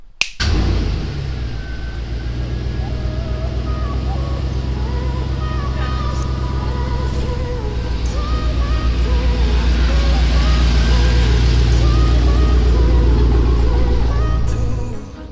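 A pickup truck with converted headlights drives along on a winter evening, its engine and road noise forming a steady, close drone that swells slightly toward the end before easing off.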